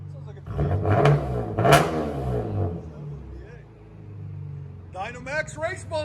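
A Chevy Camaro with a 3.6L V6 and INOMAX race bullets exhaust revs hard twice in quick succession with a raspy rising bark, then settles to a low idle rumble before a voice speaks over it near the end.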